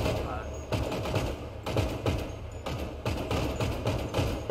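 Rapid automatic gunfire during a raid on Humane Labs in a GTA roleplay game, repeated loud bursts of shots in steady clusters with short gaps, under players talking over radio.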